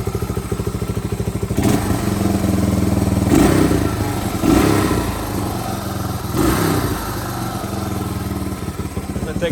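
A 1978 Suzuki DR370 motorcycle engine runs loud and close, holding a steady idle with a few brief throttle rises.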